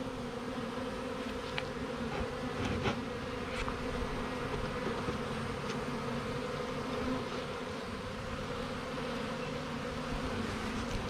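A swarm of bees buzzes steadily over a deck outdoors, a dense, continuous drone with a few louder passes close by and no talking.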